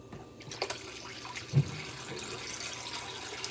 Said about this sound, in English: So I'm going to take the plums out and rinse them off.